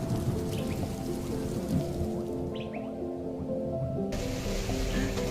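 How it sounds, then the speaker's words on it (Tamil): Steady rain pours down outdoors in the hills of Valparai, a continuous dense hiss with scattered nearby drips and patters, with no talking. "நம்ம நல்லா மழையில மாட்டிக்கிட்டோம்."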